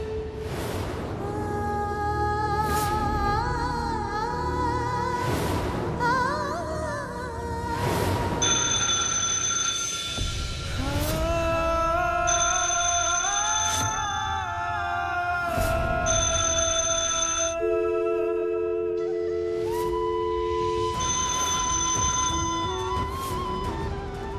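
An old telephone ringing in a post office, its bell sounding in repeated bursts with pauses between them, accompanied by musical tones throughout and no talking.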